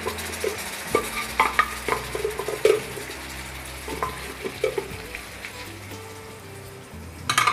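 Paneer masala gravy is stirred into paneer and capsicum in a pan over a very low flame: soft, uneven scrapes and light clinks over a faint sizzle, close up and without talk.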